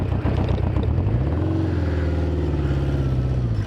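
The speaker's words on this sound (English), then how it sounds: "As you can see, bike is idling very nicely." A 1976 Honda CB550 Four with four exhausts idles steadily and close, its low burble dipping and shifting in pitch as it clunks into gear, with no talking.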